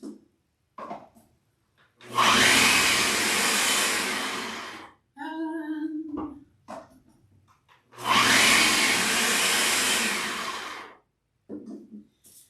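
A food processor shreds potatoes for latkes in two long, steady, loud whirring bursts of about three seconds each, separated by a quieter gap with faint kitchen clatter.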